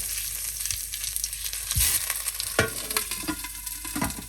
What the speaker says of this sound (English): My slow cooker is hot enough, and now I'm going to load oxtails inside